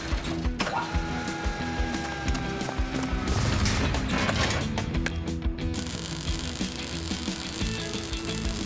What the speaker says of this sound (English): Tiny, lower the cage down to me.